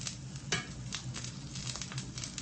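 Food browning in oil in a hot pan gives a steady close-up sizzle and crackle, with a few sharper pops and clinks scattered through it and no voices.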